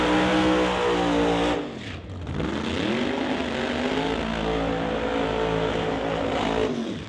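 A screw-supercharged 1957 Chevy Bel Air Pro Mod drag car blasts out a loud, harsh engine wail, cuts briefly, then revs back up into a sustained high-pitched scream.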